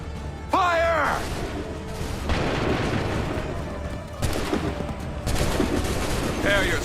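Musket volleys from a line of soldiers in Assassin's Creed III, 2012 edition: loud, booming massed blasts that roll out repeatedly, with commanders' shouted orders between the firing.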